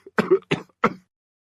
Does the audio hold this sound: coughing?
yes